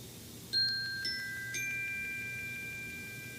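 A meditation chime sounds to close an exercise, three soft bell-like dings in quick succession with clear ringing tones that sustain and fade slowly in an otherwise quiet room.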